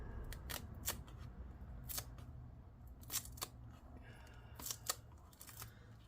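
A thermal layer is peeled slowly from inside a Lenovo Legion 5 17ARH05H laptop, giving quiet, close crinkling and tearing bursts at uneven intervals over faint background noise.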